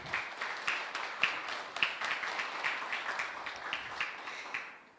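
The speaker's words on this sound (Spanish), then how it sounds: "Un aplauso para el maestro Christopher." Audience applause welcoming a panelist at a scientific panel discussion, steady and fairly soft, with individual claps distinct in the dense patter, tapering off at the end.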